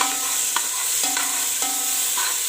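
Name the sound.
rice and vegetables being stir-fried for pulao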